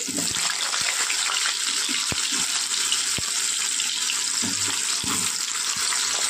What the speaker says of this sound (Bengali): তেলটা গরম হয়ে গিয়েছে, পটলগুলো দিয়ে দিচ্ছি।